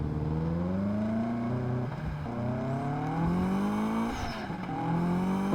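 A race car engine in the video game Test Drive Unlimited Platinum revs up in rising tones, drops briefly at each gear change, and climbs again twice, loud and continuous with no talking.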